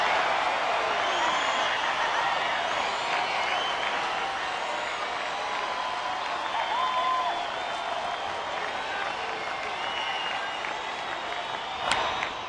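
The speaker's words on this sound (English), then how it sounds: "Well, here comes the crowd again." Crowd noise at a Tampa Bay at Detroit baseball game in 2009, a sustained roar of cheering and clapping from the stadium stands, steady throughout with a commentator's voice over it.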